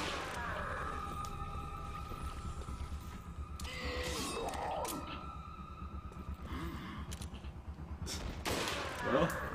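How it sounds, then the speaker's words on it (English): Rapid gunfire bursts from Resident Evil 4 gameplay ring out in several clusters, mixed with game sound effects, at moderate volume. "I like how the gunshot noises make him attack the guy that's with him."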